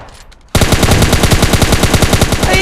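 After a brief quiet moment, automatic weapon fire bursts out in a factory-map shooting video game: a loud, rapid, evenly spaced rattle of shots that carries on unbroken to the end.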